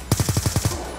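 A rapid burst of about seven gunshots in quick succession, loud and punchy, like automatic weapon fire in a game.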